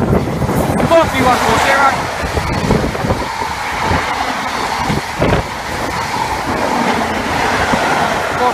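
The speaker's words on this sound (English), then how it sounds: "HST now passing to Dawlish Warren" An HST high speed train rushes past Dawlish Warren with a loud, rumbling roar and wind noise. A voice calls out numbers over it.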